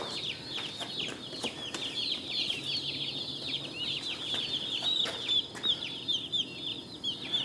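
Busy chirping and clucking of farm birds, many calls overlapping continuously at close range, with a low steady background hum.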